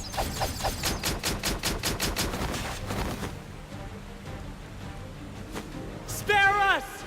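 A firing squad's gunfire volley in Octopath Traveler cracks out as a rapid, evenly spaced string of loud shots for about three seconds, then falls to a quiet hush before a short sharp game effect near the end.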